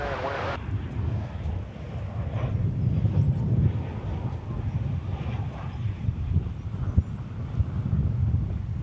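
An airplane landing on runway 18 right at DFW Airport, heard outdoors as a steady, loud low rumble mixed with gusty wind buffeting the microphone, sustained throughout with no clear break.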